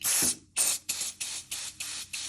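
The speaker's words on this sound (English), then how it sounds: "if you grab your starch spray, give it a shake, and we just want to spray it about maybe 1 or 2 centimeters away from it" Starch spray from a pump bottle misted onto crochet work up close, one longer opening spritz followed by six shorter evenly spaced sprays, quiet and without talk.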